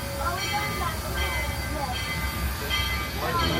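The Georgetown Loop tourist train rolls along with a continuous low rumble and rattle of rail cars, the wheels sounding steady and close throughout.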